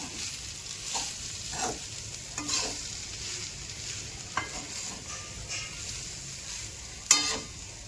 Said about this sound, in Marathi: चांगलं परतून घेते त्याला खालून वर.